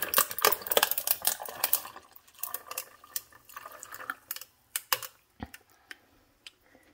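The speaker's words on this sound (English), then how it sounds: "So this time I'm gonna be smart and I'm gonna pour it in the sink." Coffee poured down a kitchen sink makes a close splashing trickle that starts dense and breaks into scattered drips and ticks as the stream thins out, with no talking.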